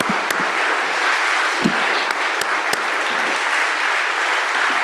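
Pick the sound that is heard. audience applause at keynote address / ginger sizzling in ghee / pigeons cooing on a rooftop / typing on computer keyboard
audience applause at keynote address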